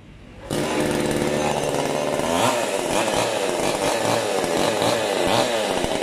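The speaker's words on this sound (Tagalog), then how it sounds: "Ito po yung ating chainsaw." After a brief quiet moment, a chainsaw starts and runs loudly and continuously close by, its pitch wavering slightly as the throttle shifts.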